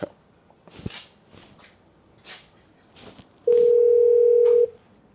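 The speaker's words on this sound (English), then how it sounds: "Dial the extension." Soft button presses on a Grandstream desk phone while dialing an extension, a handful of quiet clicks, then a loud steady electronic tone holding for about a second.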